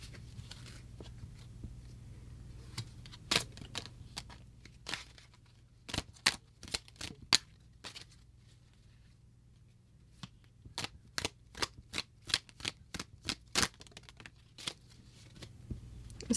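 Tarot cards being shuffled and pulled, heard as scattered sharp papery snaps and flicks, close and quiet, arriving in irregular clusters separated by near-silent pauses.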